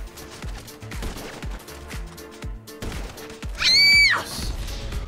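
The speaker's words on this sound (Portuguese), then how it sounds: "Errei todos os tiros, não tô acreditando." Gunshots in GTA V, a rapid series of sharp shots popping in irregular bursts at moderate loudness, with a horse whinny rising over them briefly near the end.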